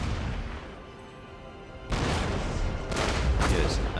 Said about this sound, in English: And we're just opening up with a cannon